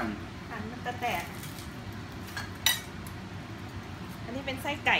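A knife cuts through a hot fried spring roll filled with tofu, shrimp or chicken on a plate, making scattered clinks and crunchy taps against the dish while people talk over it.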